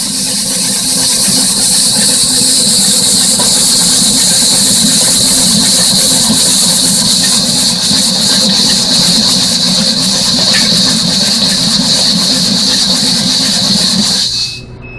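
A Globe or Hobart mixer running at about 175 to 210 RPM while mixing R-Max MP installation material, a loud steady motor whine with a high-pitched squeal, continuous for the whole stretch before cutting off at the end.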